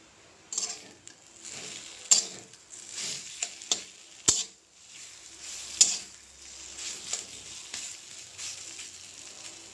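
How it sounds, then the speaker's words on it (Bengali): Taro frying slowly in a pan over a low flame, a steady soft sizzle broken by repeated scrapes and clinks of a spatula stirring against the pan. "এইভাবে করে ভালোভাবে আস্তে আস্তে ভাজতে হবে একদম লো ফ্লেমে রেখে"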